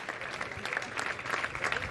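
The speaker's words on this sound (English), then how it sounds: "Massive round of applause" Crowd applause at the podium of a motorcycle race at Misano World Circuit Marco Simoncelli, a dense, steady clapping that fills the whole moment.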